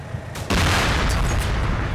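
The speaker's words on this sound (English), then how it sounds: "that was just a grenade" A grenade blows up in the Cold War tactical game Combat Mission: Cold War, a sudden loud boom that swells into a dense, rumbling roar lasting over a second.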